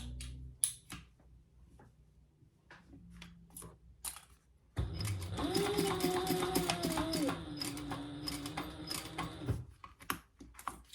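A sewing machine stitches a crossbody phone bag, starting abruptly midway with a close steady mechanical whir and rapid needle clatter lasting about five seconds, framed by quieter handling clicks and taps before and after.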